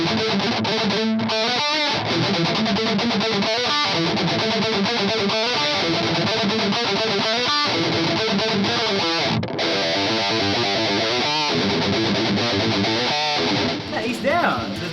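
Heavily distorted electric guitar played through a budget Schecter Demon fitted with Fishman pickups, chasing a heavy metal tone; loud, dense riffing with rhythmic palm-muted chugs runs steadily for the whole stretch and thins out only at the very end.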